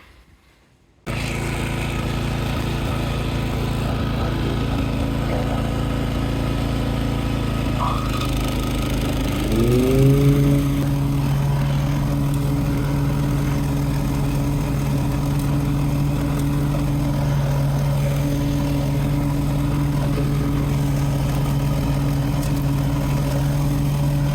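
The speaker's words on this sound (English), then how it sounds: "I'll slip the belt back over, and then we'll start her up." Toro TimeMaster 30-inch lawn mower engine starts and runs, a loud steady droning idle that climbs in pitch partway through and settles into a constant hum.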